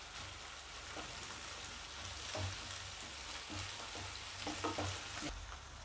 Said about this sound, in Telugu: నూనె బాగా కాగిన వెంటనే 3 మీడియం సైజ్ ఆనియన్స్ని ఇలా చీలికలుగా కోసుకొని వేసుకుంటున్నాం